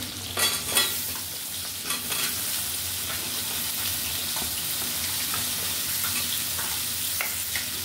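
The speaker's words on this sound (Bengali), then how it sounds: "আলুটা দিয়ে একটু কষিয়ে নিব, যেন আলুটা একটু ভালো করে কষিয়ে তারপরে সিমটা দিব।" Potatoes fry with turmeric, chili and coriander powder in a pan, a steady close sizzle broken by scattered scrapes and clinks of a stirring spoon.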